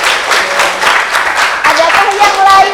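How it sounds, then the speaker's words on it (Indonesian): Brief burst of classroom clapping for a student, scattered hands applauding under a teacher's voice and chatter, close and lively. "Oke, tepuk tangan untuk Farah."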